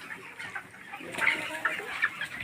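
Many chickens cluck and murmur together in a busy, continuous chorus, with a few sharper calls standing out.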